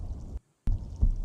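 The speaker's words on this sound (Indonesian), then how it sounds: "sepertinya ada suara detak jantung" A heartbeat throbs in the underwater video game SILT, low dull thuds separated by an abrupt moment of silence, with a stronger beat near the end.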